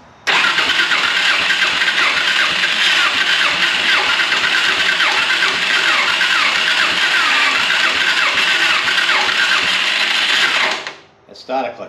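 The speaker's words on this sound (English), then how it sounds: "That starter clutch is rough." An engine with a rough, sometimes-slipping starter clutch cranks and catches, then runs loud and rough for about ten seconds before cutting off abruptly, close up, with no talking.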